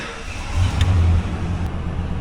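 A 1996 Ford F-350 with a 351W V8 idles and runs smoothly after a revival, a steady low engine rumble that swells briefly as it revs, then settles back to an even idle.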